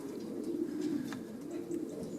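A racing pigeon coos softly in a large outdoor aviary, a steady low murmuring call running throughout with faint background noise and no talk.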